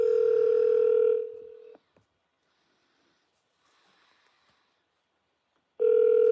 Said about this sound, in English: Alexa, call Double K